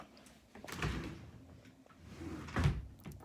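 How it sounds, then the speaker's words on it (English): A small art drawer at home is pulled open, giving two soft sliding bumps about two seconds apart, close and fairly quiet, with no one speaking. "I have my little art drawer"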